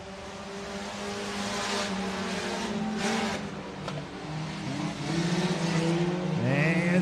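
Modified race cars circle Buena Vista Raceway as a steady engine roar that swells and fades while the cars pass through the turns, with some rising pitch near the end and no voices in the clip.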